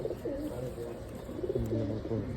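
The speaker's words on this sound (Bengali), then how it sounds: "এই যে কবুতরটা দেখাইলাম নর কবুতর" Pigeons coo nearby in low, rolling phrases, repeating over a soft steady background.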